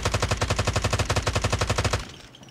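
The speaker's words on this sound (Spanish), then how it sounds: "Con la Holger uno dispara a lo bestia." The Holger machine gun in Call of Duty Mobile fires a fast, loud, evenly spaced burst of about twenty shots for two seconds, then stops abruptly into faint background noise.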